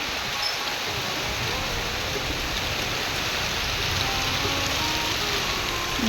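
Light morning rain falls steadily, a dense, even hiss of drops on surfaces that stays constant throughout with no talking.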